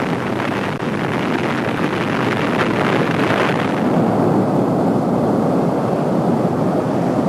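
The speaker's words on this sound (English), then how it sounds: "Santorini, or Thera, erupted." A dense, continuous, loud rumbling roar like a massive volcanic eruption, the Santorini (Thera) blast, with broad turbulent noise that mellows slightly halfway through, no voices.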